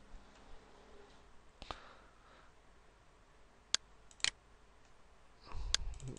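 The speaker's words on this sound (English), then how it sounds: "Let me double click the fourth one" A computer mouse clicks sharply in quick pairs, three or four crisp double clicks spread over a few seconds against a quiet background, with a soft thump near the end.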